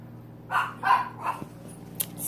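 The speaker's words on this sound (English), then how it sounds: "My dog is super noisy." A dog barks three or four times in quick succession at moderate distance, followed by a short yip, over a quiet room hum.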